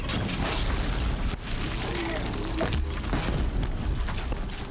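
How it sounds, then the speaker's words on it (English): Sticky bomb explosions in the video game Horizon Zero Dawn, a dense run of loud booms and bursts with sharp hits near one and a half and two and a half seconds over constant game noise. "More sticky bombs for you!"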